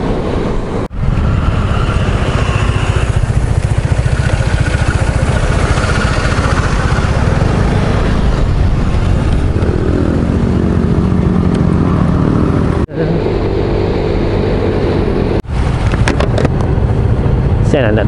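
Loud, continuous motorcycle engine drone while riding, with wind rumble and brief dips in sound.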